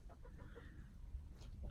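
Chickens clucking softly outdoors after being let out of their coop, a few short faint clucks scattered over steady low background noise.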